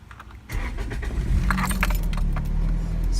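A manual car's engine is started with the ignition key in a parking lot: keys jangle, then the engine cranks and catches into a steady close idle rumble.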